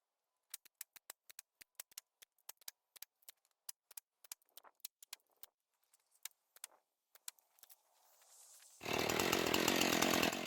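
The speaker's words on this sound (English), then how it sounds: "More chainsaw trimming." A series of sharp knocks and taps comes first, then a chainsaw roars to life trimming wood on a pole barn build, loud and close, running steadily at the end.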